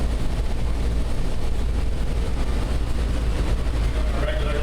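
A steady low rumble and hum of the Bellagio–Monte Carlo tram in Las Vegas rolling along its track near Aria, continuous and fairly close, with faint voices underneath.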